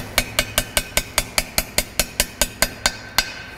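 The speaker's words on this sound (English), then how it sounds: "I'm going to use my hammer." Steady metallic hammer taps driving a tool into an engine piston bore, about fifteen evenly spaced sharp knocks, close and fairly loud with no talk.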